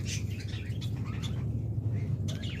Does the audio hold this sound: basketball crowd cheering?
no